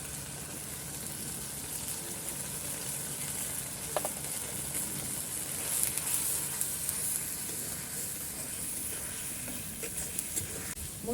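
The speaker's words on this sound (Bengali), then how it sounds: "মশলাগুলো আমি কতক্ষণ কষিয়ে নেব।" Ground turmeric, chili powder, salt and coriander powder sautéing in a pan for liver bhuna, a continuous soft sizzle with occasional clinks and stirring scrapes.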